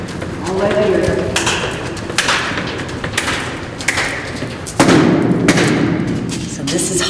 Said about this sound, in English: A little banging, all the way here.